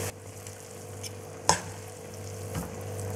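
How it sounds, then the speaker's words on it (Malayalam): Two spoons stir egg noodles frying in a pan over a soft, steady sizzle, with a few sharp scraping clicks as the noodles are tossed. "ഇനി ഒന്ന് മിക്സ് ചെയ്ത് യോജിപ്പിക്കാം."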